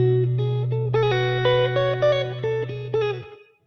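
An electric guitar plays a slow run of single notes of the B Dorian scale over a sustained low drone, each note ringing out with a touch of effects before it fades.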